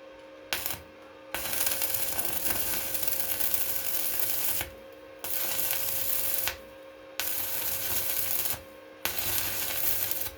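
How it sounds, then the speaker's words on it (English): A welding seam is laid in bursts of steady crackling buzz separated by brief silences, with four or five runs of near, even arc noise. "if you want a nice weld, now weld it"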